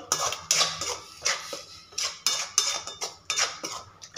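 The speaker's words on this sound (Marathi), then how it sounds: "हलवून घ्यायचं कंटिन्युअसली" A utensil stirs yogurt spice masala in a pan, making rhythmic scraping and clinking strokes about twice a second, close and clear with no talk.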